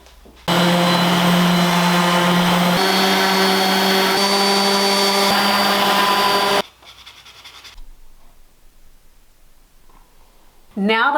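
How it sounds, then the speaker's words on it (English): A power sander strips polyurethane finish from wooden boards in a garage, a loud steady whine with a slight pitch shift partway, running for about six seconds before cutting off to quiet room noise. "now we've got the polyurethane sanded off of the boards"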